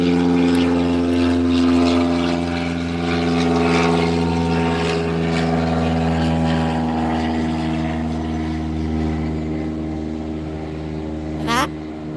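A small propeller plane flies over near a tiny private airport, its steady droning hum running throughout, with a bird's sharp squawk near the end.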